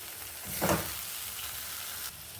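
Potato and pointed gourd korma with slit green chillies sautéing in a pan, a steady soft sizzle with one brief louder stir-scrape near the start, alone with no talk.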